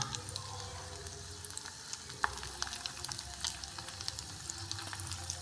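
Dried fish (tuyo) fries in a rice cooker with a soft, steady sizzle and scattered small pops and crackles, heard close and fairly quiet throughout.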